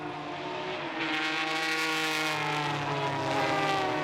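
Classic race cars such as the Ford Capri RS and BMW 3.0 CSL roar past at Spa-Classic, a loud sustained engine howl that rises in pitch as the cars accelerate close by.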